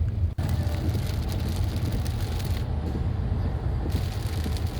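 Heavy rain pours down during a highway drive, a dense continuous roar of water drumming and road noise heard from inside the moving car, steady and loud throughout.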